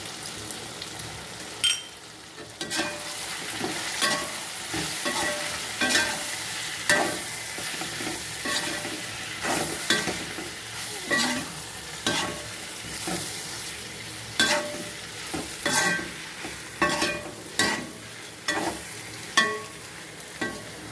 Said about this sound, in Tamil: வதக்கிட்டு அப்புறமா மசாலா போடுவோம்.